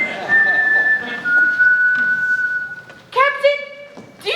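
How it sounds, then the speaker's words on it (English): Someone whistles a few sustained, sliding notes, clear and fairly close, over faint background noise. "Was somebody whistling?"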